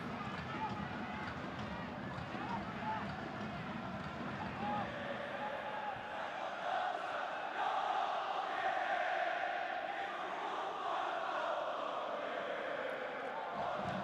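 Large crowd of about ten thousand roars steadily at an Asian Champions League group match between Zhejiang FC and Ventforet Kofu, a broad continuous din that swells slightly midway, with a commentator talking over it throughout.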